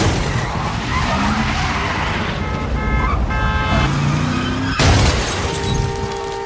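A car skids and crashes in a dramatic sound effect: loud tyre screech and engine noise build up, then a sharp impact with shattering glass and metal near the end, followed by lingering ringing tones.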